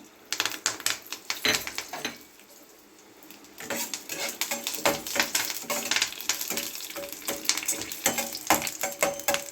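Curry leaves and five green chillies sizzling in hot oil with cinnamon for chicken 65, a dense crackling spatter with sharp pops, close and loud, briefly dying down before flaring up again.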